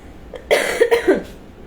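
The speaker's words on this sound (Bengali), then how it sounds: "কাশি হচ্ছে।" A single person coughs two or three times in quick succession, close and fairly loud, in an otherwise quiet room.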